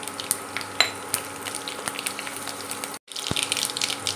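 Mustard seeds, cumin and chillies frying in hot oil, a dense crackling sizzle with scattered pops and spoon clinks, broken by a brief cut before the sizzling resumes; no voices.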